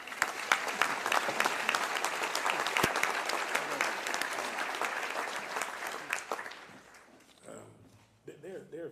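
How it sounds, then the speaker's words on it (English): A luncheon crowd at a chamber of commerce local government event applauds loudly and steadily for several seconds, then the clapping thins and fades as a voice begins speaking over the dying claps. "give yourselves a round of applause"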